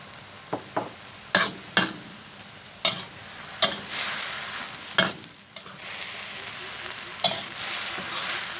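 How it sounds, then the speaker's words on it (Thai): Cabbage stir-fried with three kinds of mushroom and chilli in a pan, a continuous sizzle broken by sharp spatula scrapes and knocks at irregular intervals, close and moderately loud, without talk. "ผัดให้เข้ากันเลยจ้าทีนี้ แล้วก็ใส่พริกค่ะ"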